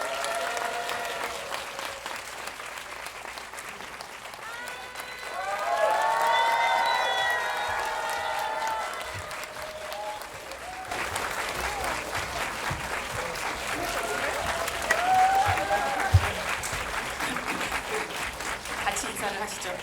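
A cinema audience applauds as film director Bong Joon-ho and the Parasite cast arrive at a Megabox COEX hall talk event; sustained crowd clapping swells and continues throughout, with a host's voice speaking over it.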